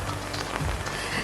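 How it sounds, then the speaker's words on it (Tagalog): Steady rain patters without a break at a campsite at Camp Awol in Real, Quezon, a dense, even hiss close by with no voices. "So yan, umuulan na naman."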